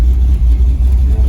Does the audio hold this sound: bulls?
no